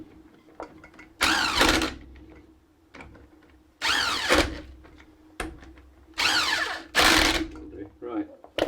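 A power tool on an E-Type spins out wheel nuts in short bursts, about five whirring runs of a second or so each, separated by pauses with faint clicks and handling noise.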